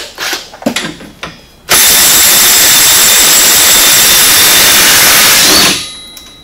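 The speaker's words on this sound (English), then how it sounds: "Now, I got a 27mm socket. Go ahead and pull off this axle nut." Rear axle nut coming off a Polaris RZR S 800 with a 27mm socket: a few light clicks and knocks, then a loud, steady, harsh power-tool whir runs for about four seconds before cutting off.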